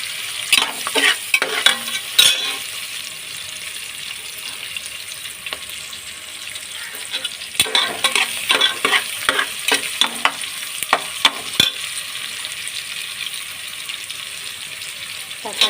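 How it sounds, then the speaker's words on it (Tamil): Onions frying in oil in a pan while being stirred for vegetable brinji rice, a steady bright sizzle broken by repeated scraping strokes of a spatula, close and fairly loud throughout. "வெங்காயம் நல்லா பொன்னிறமாக கலந்து விட்டுடுங்க"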